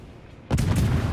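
A sudden heavy boom of warship main guns firing in the naval combat game World of Warships, loud and close, with a sustained rumbling tail after the initial blast.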